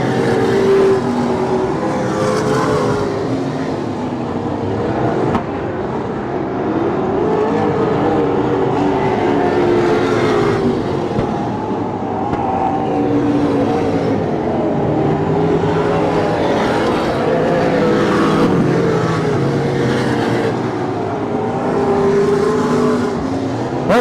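Stock cars race around a dirt track at the Dirt Nationals in Hanford, California, their engines roaring loud and continuous as they pass and rev through the turns.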